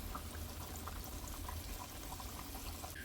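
Buttermilk-battered chicken pieces frying in hot oil in a Lodge cast iron skillet, giving a steady, dense sizzle and crackle that runs unbroken and fairly quiet throughout.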